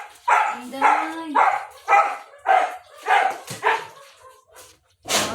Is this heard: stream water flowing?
no